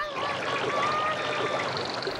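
Water of a spring stream flows steadily with a continuous bright rushing and trickling wash, close and even throughout, with no voices over it.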